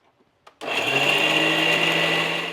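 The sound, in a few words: grinder blending coconut, turmeric, chili, cumin, pepper and yogurt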